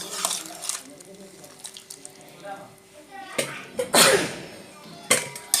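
Boiled cauliflower is tipped into a strainer and the cooking water is drained off, splashing and pouring in bursts, with a loud gush near the end and a few clanks of the vessel.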